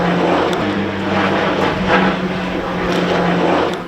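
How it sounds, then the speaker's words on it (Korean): A military aircraft flies low over a village in Donghae-myeon, Pohang, making a loud, steady roaring drone with a low throbbing hum that fills the whole few seconds, with no voices. "하루에도 수차례 항공소음으로 깨지고"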